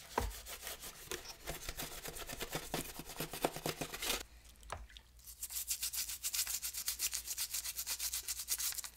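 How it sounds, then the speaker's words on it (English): Plastic knobs and parts from an Atari Super Pong console are scrubbed with a brush in rapid, rhythmic rasping strokes, close and fairly quiet, with a brief pause midway before the scrubbing resumes. "Give it a good light scrub with our brush here."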